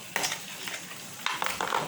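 Fried insects cook in a pan with makrut lime leaves and lemongrass, giving a low steady sizzle broken by several brief scraping stirs and clinks of a utensil against the pan.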